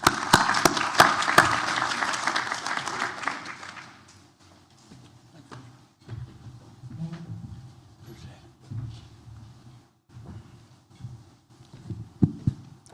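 An audience in a morning seminar on retirement and Social Security bursts into lively applause to welcome a speaker, loud and dense at first, then fading to scattered claps, shuffling and murmurs.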